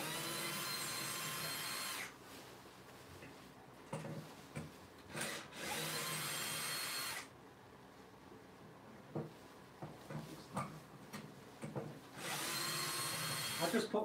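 A power drill driving three screws into wood, several separate whirring bursts of a few seconds each, close and fairly loud, separated by quieter gaps with small knocks and handling noises.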